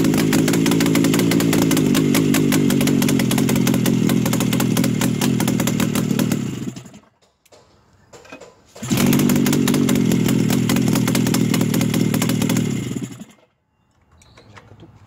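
An RMZ-640 snowmobile engine is started twice: each time it roars loud and close at a steady, buzzing two-stroke rev for several seconds, then cuts out into near silence.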